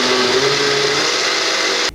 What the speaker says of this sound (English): Now, you want to blend this again, like I said, on a medium speed for about 2 minutes